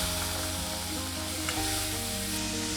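Boiled chickpeas hit a hot tempering pan for sundal, setting off a dense, continuous sizzle and hiss with steady stirring underneath, close and even throughout.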